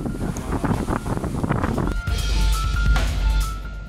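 Strong wind batters a microphone outdoors, a loud, continuous rumbling roar that swells and gusts throughout with no break.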